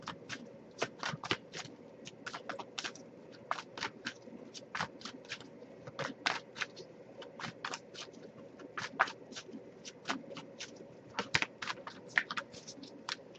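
A deck of tarot cards is shuffled by hand over and over, giving quick irregular bursts of crisp riffling and slapping, close and fairly quiet, with no talking.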